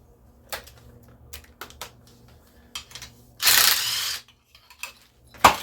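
A socket wrench clicks through short bursts of ratcheting on a Tecumseh small engine during broken-governor repair work, with scattered mechanical clicks and one longer loud rasping stretch near the middle.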